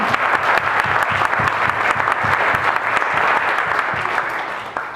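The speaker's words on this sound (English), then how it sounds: "I'd like to give him a round of applause." Audience applause at a church gathering, steady and dense clapping from a crowd at close range, holding evenly before tapering slightly at the end.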